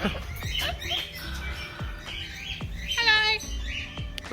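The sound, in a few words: cockatoo calling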